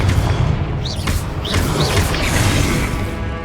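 Explosive spell blasting in Hogwarts Legacy: a heavy booming crash followed by continuous rumbling, with a few bright whistling streaks overhead and a low voice faintly present.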